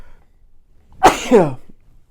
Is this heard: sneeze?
yes